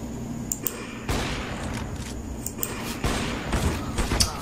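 Gunfire in the video game CS:GO cracks out in repeated sharp shots and short bursts at an irregular rhythm, loud and close over steady game background noise.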